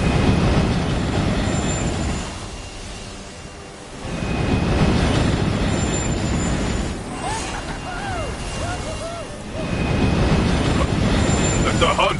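Train rumble and clatter from the Borderlands video game, with rail wheels squealing partway through over a steady loud rolling noise that swells and dips in waves.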